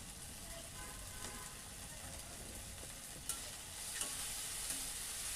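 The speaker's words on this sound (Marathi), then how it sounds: "मीठ ॲड केल्यावर परत एकदा छान परतून घ्यायची आहे तेलावरती गवार." Cluster beans (gavar) stir-frying in oil, a faint, steady sizzle with occasional soft clicks of stirring throughout.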